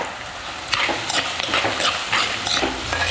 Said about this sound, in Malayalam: ഈ ചെറിയ ഉള്ളിയും കൂടെ ഇട്ടങ്ങ് വഴറ്റി കൊടുക്കാം